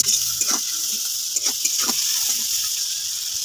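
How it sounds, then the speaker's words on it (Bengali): Shrimp fry in oil with salt and turmeric, a steady bright hiss with a few spatters and light stirring clicks close to the pan. "আমি নুন আর হলুদ দিয়ে চিংড়ি মাছটা বেশ করে ভেজে তুলে রাখবো।"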